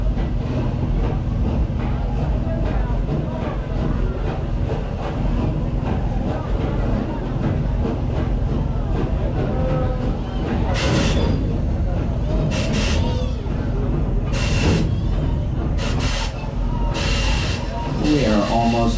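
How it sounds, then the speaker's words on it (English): Steam train at Busch Gardens Tampa rolling into the Nairobi station, a loud steady rumble with hissing bursts of steam toward the end, under an announcer's voice over a speaker. "our train is now entering into our Nairobi train station"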